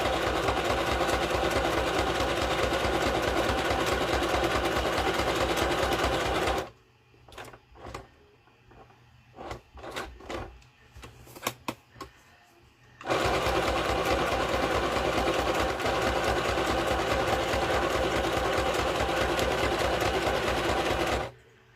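A domestic sewing machine stitching fabric for a small sewn mini project runs loud and steady, with a gap of quieter rustling and clicks in the middle before the stitching resumes at full speed; no one talks.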